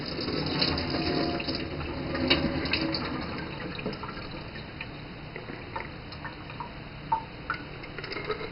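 Murky soaking water from a jar of almonds is tipped out into a sink, a steady wet splashing and trickling with a few brief drips, close and moderately loud, with no voices.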